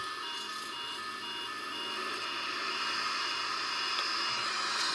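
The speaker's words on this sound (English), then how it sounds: "Full reverse thrust, as you can see, and we're coming into a slowdown." Simulated Boeing 777-300ER jet engines roaring in full reverse thrust during a landing rollout, a steady broadband rush that swells slightly louder toward the end, with no voices.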